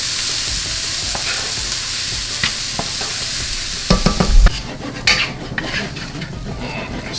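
Parboiled red potatoes drop into a pan of sizzling vegetables and get stirred, giving a steady loud fry sizzle with utensil scrapes, a clunk as they land, and busier clatter afterward.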